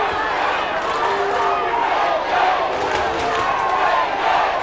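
A Sydney Swans supporter revving up the crowd at a 1995 Australian football match against Essendon: a steady, loud roar of stadium crowd noise with shouting mixed in throughout.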